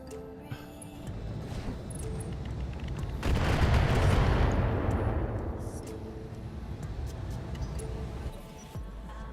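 Missiles and heavy weapons fire in a Roguetech mech battle, with a dense rumbling barrage of booms and a swelling blast roar mid-clip that fades into continuing crackling fire and scattered impacts.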